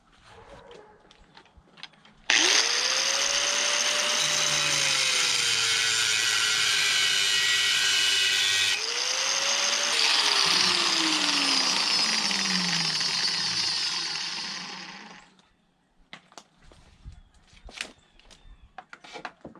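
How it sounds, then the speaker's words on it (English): An angle grinder with a fiber cutting blade slicing through round metal pipe, a loud, steady high-pitched whine and grinding lasting about thirteen seconds, briefly dipping in pitch midway, then spinning down and fading, with quieter workshop noise before and after. "the angle grinder is not my favorite tool cutting metal because the fiber blade is so dangerous"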